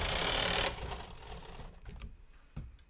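A knitting machine carriage makes a left-to-right pass while knitting a sock: a loud, rapid mechanical whirr and rattle that stops abruptly, followed by quieter clicks and small clacks of needles.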